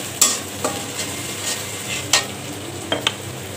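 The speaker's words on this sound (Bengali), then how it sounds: "এখন আদা পেস্ট দিয়ে দিব, রসুন পেস্ট দিয়ে দিব। একটু ভেজে নিয়ে গুঁড়ো মশলা দিয়ে দিব।" Ginger and garlic paste frying in a pan for a spicy chicken curry: a steady close sizzle with a few sharp scraping strokes of a spoon at irregular intervals.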